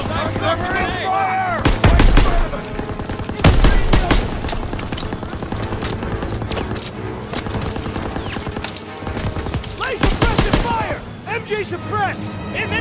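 Sustained machine gun bursts and rapid gunfire from a World War II battle in the game Call of Duty: WWII, loud and dense, with booming impacts and shouted voices throughout.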